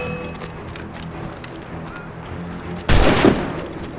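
A gunshot in the video game Assassin's Creed Rogue, one loud sharp blast with a short ringing tail, bursting out of a steady bed of ambient game noise.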